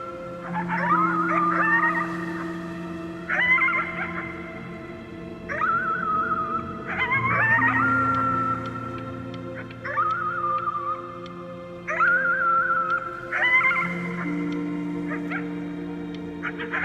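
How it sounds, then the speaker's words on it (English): Howling at the moon in the video game Before Your Eyes, a series of drawn-out, wavering howls repeating roughly every two seconds over a sustained low musical drone. "You howled at the moon, at the top of your lungs."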